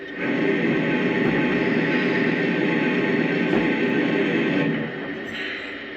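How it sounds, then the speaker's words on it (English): A loud, steady hissing rush of steam from a Lionel model steam locomotive's blowdown sound effect, holding for several seconds before dropping off abruptly. "here's the sound of a blowdown."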